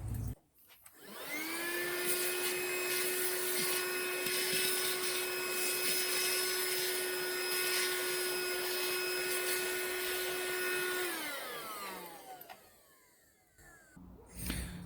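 A Loftek cordless wet-dry car vacuum starts up and runs with a steady whining motor hum for about ten seconds, then winds down as it switches off, with no talking.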